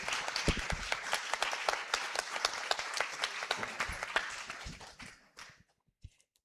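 Theatre audience applause during a talk event in an Italian theatre, dense clapping with crisp nearby claps that thins out and fades to near silence, ending with a few scattered claps.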